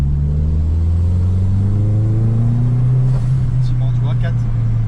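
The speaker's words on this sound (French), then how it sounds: "Et à 4, si je reprends à 2 ça pousse." A Peugeot 205 GTi swapped with a T16 turbo engine accelerates past 4000 rpm, a loud steady drone that slowly climbs in pitch, with voices speaking over it inside the car.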